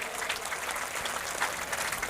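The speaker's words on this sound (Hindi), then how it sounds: "एक बार आप सब लोग जोरदार तालियों के साथ" Loud, dense applause from a crowd at an AIMIM election rally in Bihar, welcoming politicians; steady clapping fills the whole stretch without pause and with no talk over it.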